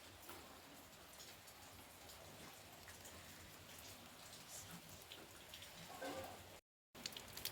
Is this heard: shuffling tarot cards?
no